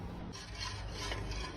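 Crushed jamid, soaked overnight and mixed with mansaf spices, is stirred in a pot, making a short, faint, rasping scrape that rubs steadily along with no voices.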